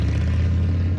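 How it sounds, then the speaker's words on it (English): A popular American motorcycle engine throbs in a loud, close, steady low rumble for about a second, with no one talking. "This is the sound of a popular American motorcycle."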